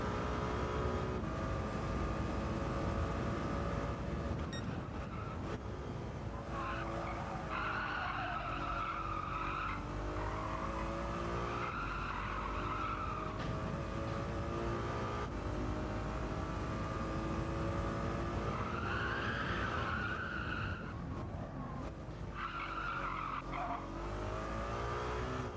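A Ferrari's tyres squeal and skid through corners in the Gran Turismo 7 racing game. Several long slides rise and fall over a steady, loud engine drone, with no talk.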